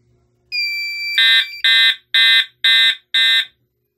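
FireLite MS-5UD fire alarm panel sounding its alarm: a steady electronic tone, then five loud, evenly spaced beeping pulses, close and alone with no talking.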